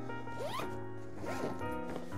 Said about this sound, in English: Zipper up.